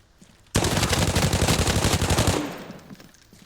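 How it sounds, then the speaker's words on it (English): Automatic gunfire in Arena Breakout Infinite erupts suddenly and loud, a rapid sustained burst of shots at close range for about two seconds before trailing off into quiet. "There's a few more shots still coming down in and around this area"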